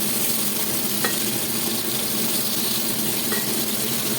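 Pieces of pointed gourd (potol) fry in a pan with a continuous close sizzle and hiss, faint occasional clicks of stirring, and no one speaking.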